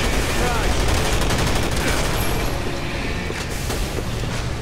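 Enemy mobs firing guns in Resident Evil 6, a dense, continuous clatter of gunfire and impacts that stays loud throughout with no break in the shooting.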